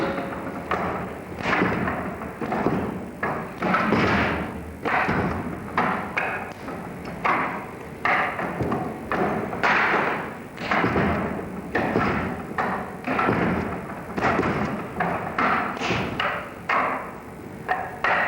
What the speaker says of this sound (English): Master Fung delivers an enormous amount of power onto this large, solid object